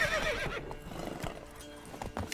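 Horse hooves clopping in The Witcher 3, a steady run of soft hoofbeats with a short whinny at the start, heard under game ambience.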